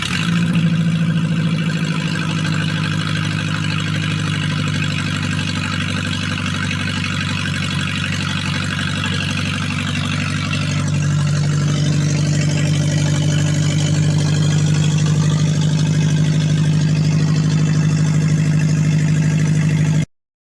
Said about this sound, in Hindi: गाड़ी साउंड कर रही है बहुत ज़्यादा स्टार्ट करने पर, क्योंकि इसका साइलेंसर नहीं है